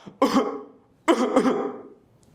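Two coughing fits separated by a brief pause, the second a pair of quick harsh bursts; close and fairly loud with no talking.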